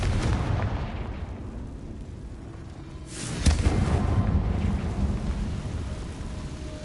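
Fiery Confringo spell blast in the Hogwarts Legacy video game, a sudden booming burst that swells into a roaring, rumbling rush over a background of steady noise, then slowly dies away.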